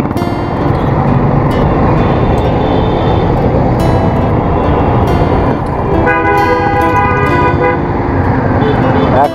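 Congested traffic on a Dhaka road, with a steady, loud wash of engines and road noise broken by repeated car horn toots, including a sustained honk near the end; no one speaks.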